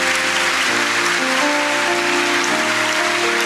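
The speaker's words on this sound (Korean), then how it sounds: "다시 한번 학습 세례자 분들께 축하의 박수를 자리에 돌아오실 때까지 박수를 올려드리겠습니다." Sustained applause from a church congregation at a Sunday baptism and confirmation ceremony, dense and steady like heavy rain, with organ or keyboard chords playing beneath the clapping.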